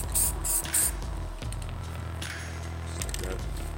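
Spray can hissing red paint onto a plywood plyobox, several short close sprays near the start followed by a quieter stretch with faint background noise.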